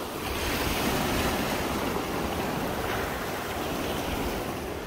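Ocean surf washes steadily around rocks on the coast of Port Lincoln National Park, a dense continuous roar with wind noise buffeting the microphone and no voices.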